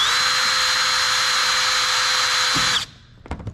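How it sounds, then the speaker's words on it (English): Power drill boring holes through a plastic car bumper for a bracket, a loud steady high whine that runs continuously for nearly three seconds, then stops abruptly, followed by a few faint clicks and handling noises. "Now I'm going to drill where we marked our points so we can use our new bracket"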